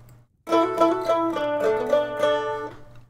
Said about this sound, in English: Oh, I do love that sound, that little jingle